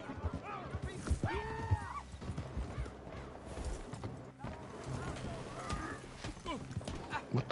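Horse hooves clip-clop at a trot along with a couple of clear whinnies and neighs from a horse in a Western video game, fairly faint and mixed with players talking over the action.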